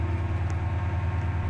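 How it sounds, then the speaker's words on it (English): A Class 68 train in the Roblox railway game Stepford County Railway gives a steady low rumbling drone with a rhythmic pulse, close and constant, with no talk. "A Class 68 is being driven by an Among Us character."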